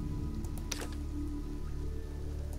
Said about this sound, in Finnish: Tulee jo sadetta.